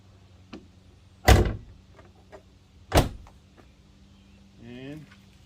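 A 2022 Ford Maverick hood slams shut in two solid, loud thumps a couple of seconds apart, with a few small clicks around them and a faint whine near the end.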